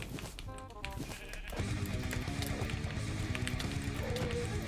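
Sheep in Minecraft bleat repeatedly during a sheep-stealing minigame, several overlapping cries sounding over a busy game soundscape of steps and effects that grows denser partway through.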